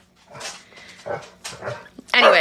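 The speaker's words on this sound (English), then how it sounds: "I'm sorry my dog has barked through most of this live." A pet dog barks indoors during a woman's livestream: several short yips and barks come and go under her talking, with a louder, closer bark at the end.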